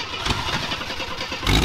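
A project car being started after its timing was set, the engine cranking and catching in a short burst of rough motor noise that swells louder at the end, with no talking.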